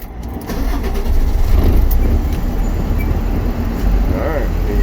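An engine runs steadily just after being started, held at a fairly constant rumble for the whole stretch, loud and close with a brief rougher catch at the very start.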